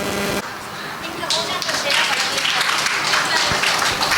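Applause at the annual meet and award ceremony of HWS Fortune Marketing: a dense, continuous wash of clapping that swells after a brief opening, with voices and background noise mixed in.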